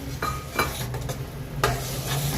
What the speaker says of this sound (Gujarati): આપણે એને હલાવી લઈશું આ રીતે